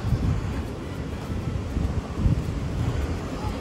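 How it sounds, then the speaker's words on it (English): Ocean waves roll in at Pensacola Beach under strong wind, a steady low roar of surf with heavy wind buffeting the microphone throughout and no voices. "Nice waves today."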